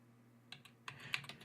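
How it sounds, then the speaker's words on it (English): Keys on a computer keyboard clack in a short, irregular burst of a handful of faint taps after a brief quiet moment, heard up close with no talking. "So yeah, I'm typing right now, obviously."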